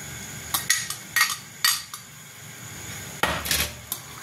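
Chana dal tipped into a cooking pot for a dry bottle gourd and dal dish, followed by a spoon stirring, giving a series of sharp metallic clinks and scrapes spread out over a few seconds.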